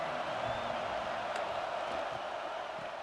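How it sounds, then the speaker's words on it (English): Steady stadium crowd roar from a college football video game, SMU at Utah, a dense continuous wash of cheering at even loudness with no individual voices standing out. "This crowd ready to make its presence known."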